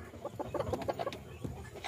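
Broody hens cluck softly in their nests, a run of quick, close, low clucks in a quiet coop.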